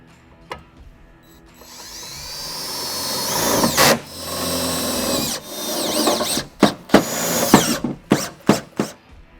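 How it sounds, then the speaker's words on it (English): A power drill fitted with an 11mm socket whines up for a long steady run driving self-tapping screws into the side of an UnderCover Swingcase toolbox on a Tacoma, then finishes with several short bursts. "we're going to grab an 11mm socket here, put it on our drill, and we can run these screws through the side"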